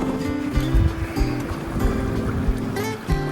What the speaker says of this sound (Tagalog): Pasensya na nga po pala sa lakas ng hangin, dahil medyo malakas po yung hangin ngayon